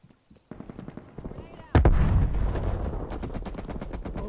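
Video game gunfire in Call of Duty Black Ops Cold War: quick rhythmic shots, then a heavy blast followed by a steady rattle of rapid fire, loud and close.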